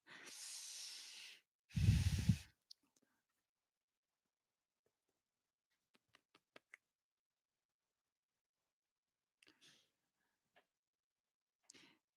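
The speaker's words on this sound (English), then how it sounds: "I'm breathing hella hard." Two heavy breaths, a long airy exhale followed by a louder, rougher one, sound close to the microphone, then near silence broken by a few faint clicks and soft rustles.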